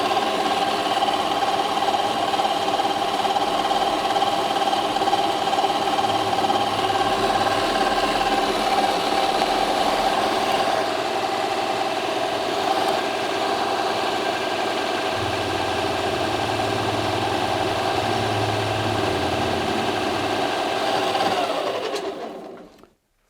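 A milling machine steadily cuts a 25 mm wide flat in half-millimetre passes, with the work held in a Vevor dividing head. A continuous, close mechanical whir and hum runs unbroken for about twenty seconds, then stops abruptly.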